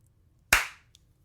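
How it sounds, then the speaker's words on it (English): One sharp, crisp hand clap, close and loud with a short decaying ring, followed by a tiny faint tap, in an otherwise quiet space. "All right, so I'm going to clap, but I'm going to give you the Aussie version"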